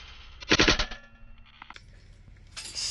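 Air rifle shots at pigeons, fired with Predator GTO lead-free pellets outdoors: one sharp near crack followed by quieter clicks and rustling handling noise over about three seconds, with no voices.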